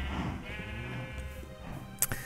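Sheep in a video game bleat, a wavering nasal bleat heard close up, followed by a brief sharp click near the end, with no talk.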